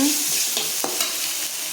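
Onion, ginger and garlic sauté in a pan for potato kurma, a loud close sizzle with several quick scraping strokes of a stirring spoon.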